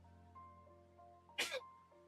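A single sharp sneeze bursts out over a quiet background of soft sustained tones during the romance game Love and Deepspace, close and brief.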